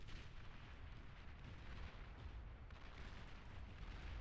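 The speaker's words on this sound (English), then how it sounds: "But finally we have artillery from Disnov and Sad Panda" Artillery fire in a real-time strategy video game: a dense, continuous low rumble of overlapping explosions, steady and unbroken, fairly faint overall.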